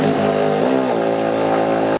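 Button head bolts with coarse threads driven into unthreaded plastic bosses on a Polaris Ranger dump bed mud guard, a loud steady whirring power-driver drone with a brief pitch shift partway through.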